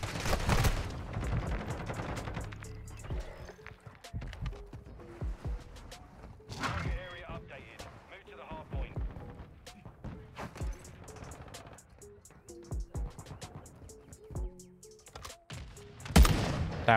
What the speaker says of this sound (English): That's a sentry gun.